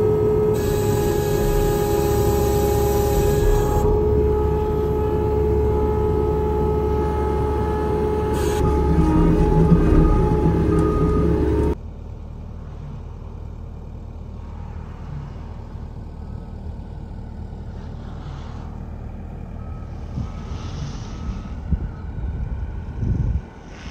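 A skid steer loader runs as trees are cleared for a herd, its engine a loud, steady drone for about twelve seconds before it drops off. Quieter outdoor noise with occasional knocks follows.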